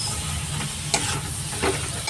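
Tomato masala sizzles in a pan on low heat while a spoon stirs it, a steady close frying hiss broken by a few short scraping stirs.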